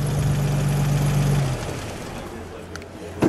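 A 1959 Jensen 541R coupe's engine runs with a low, steady rumble and a droning tone, then cuts off about halfway, leaving quieter ambience and a couple of faint clicks and knocks.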